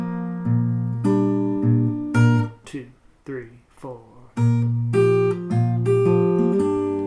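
Guitar notes ring out in chords and short phrases, with a brief pause midway and a voice counting in between.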